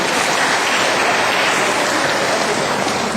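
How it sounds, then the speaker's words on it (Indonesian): Audience applause fills a motivational seminar hall, a dense, steady wash of clapping from many hands that holds at full strength for the whole stretch with no talk over it. "Tepuk tangan dulu dong."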